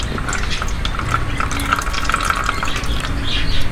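Water strained through a cotton cloth, a continuous close trickle and splash of liquid with small drips, steady throughout and with no talking.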